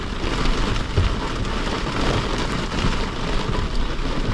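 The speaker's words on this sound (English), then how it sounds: "It's supposed to rain like this for another 2 hours." Heavy rain pours down steadily at an off-road Bronco rodeo, a dense, loud, continuous hiss with no break.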